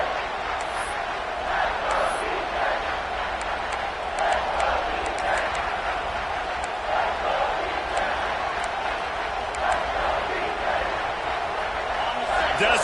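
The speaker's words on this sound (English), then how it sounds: "Decibels rising as the crowd gets behind this defense on 3rd down." A football stadium crowd roars for the defense on third down during a Texas A&M versus Tennessee game, a dense, loud, sustained wall of noise that swells slightly, with occasional whistles and shouts, and announcer commentary heard over it.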